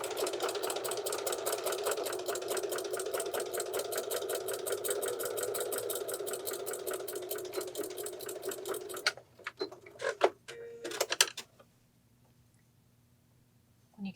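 A sewing machine stitches a gnome beard appliqué onto a pillow in a steady, fast mechanical whir for about nine seconds, then stops, followed by a few soft handling noises and quiet.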